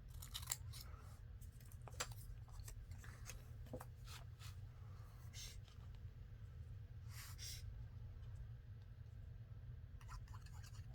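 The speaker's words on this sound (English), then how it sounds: "we'll cut a little piece for up top here, and I'm just using coffee dyed paper" Scissors snipping through coffee-dyed paper up close, several quick crisp cuts in irregular bursts with short pauses, faint rustle of the paper over a low steady hum.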